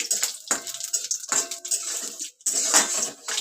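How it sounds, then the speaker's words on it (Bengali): Whole cumin seeds being stirred in a cooking pan for a vegetarian masala paneer, giving a steady sizzling hiss with scraping strokes of the spoon that rise and fall in three or four pulses, close and fairly loud. "একটু গোটা জিরে আমি দিয়ে দিলাম একটু একটু নাড়াচাড়া করে"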